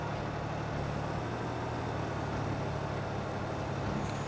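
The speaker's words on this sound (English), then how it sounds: "this tractor is not quite as loud as that old John Deere I was running a minute ago either" Tractor engine running in Farming Simulator 22 on a hardcore Iowa farm map, a steady droning hum with low harmonic tones that holds evenly throughout, fairly quiet with no speech over it.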